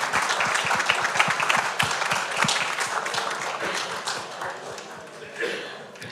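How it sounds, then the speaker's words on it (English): Audience applause following a trophy presentation at a web scraping tech talk, a dense steady clapping that fills the room and slowly thins toward the end, with some voices mixed in. "Another round of applause."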